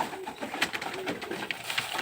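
Pigeons or doves cooing around a backyard poultry feeding spot, soft repeated coos and light chirps scattered across a couple of seconds with steady rustly background.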